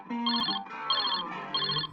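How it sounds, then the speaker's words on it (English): A telephone rings with an electronic ringtone, three short repeated trilling bursts in quick succession, clear and close with no voices. "suddenly the phone rings."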